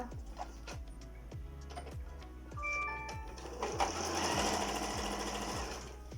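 A sewing machine runs in quick rhythmic bursts while stitching trousers from a checked cotton pakama cloth at home, its needle thumping steadily and close, with a brief whirring stretch partway through and no talking.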